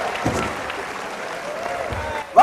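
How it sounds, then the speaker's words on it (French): A comedy club audience at a stand-up show applauds, brief steady clapping that swells at the very end. "Applaudissez, j'adore les ovations."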